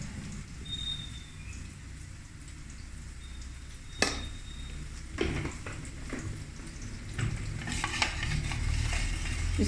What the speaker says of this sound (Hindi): इस तरह से हिला के ना इनको मिक्स कर देंगे